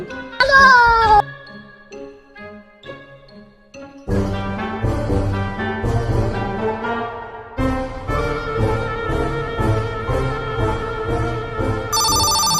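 A telephone rings in a Bangla comedy drama scene as a bright, tonal melodic ringtone that plays in repeating loud bursts, with brief pauses and some background voices.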